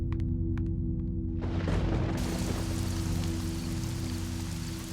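Heavy rain pours down as a dense, steady hiss that thickens suddenly partway through, with a constant low hum underneath.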